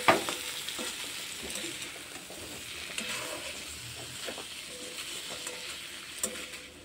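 Potato and cauliflower curry being stirred in a pan, with a steady low sizzle under soft, irregular scraping strokes and a few sharper clinks of the spoon against the pan, up close.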